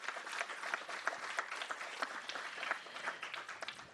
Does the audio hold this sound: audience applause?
yes